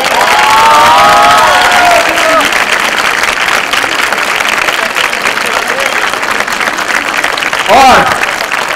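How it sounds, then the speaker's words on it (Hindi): School children clap and cheer loudly at a CPR camp, a dense, sustained burst of applause with shouts rising over it, and a few voices calling out near the start and toward the end. "आज अपने इस छोटी सी मैडम के लिए जो इस पूरे इतने बड़ा स्कूल चलाती हैं, इनके लिए 80 बार तालियां बजाओ।"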